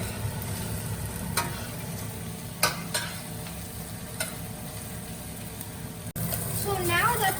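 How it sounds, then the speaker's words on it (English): Onions sizzle steadily in a hot pan, broken by a few sharp scrapes of stirring and a brief muffled voice at the end. "Now that the onions are in the pan, we just need to keep frying them until they're golden brown."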